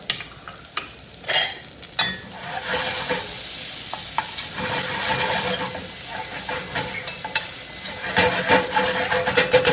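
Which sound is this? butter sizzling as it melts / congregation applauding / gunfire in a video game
butter sizzling as it melts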